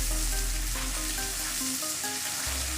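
Onions with ginger, garlic and green chilli paste frying for mutton biryani, a loud continuous sizzle with no talking.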